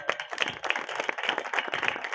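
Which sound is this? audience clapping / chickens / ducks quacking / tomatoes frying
audience clapping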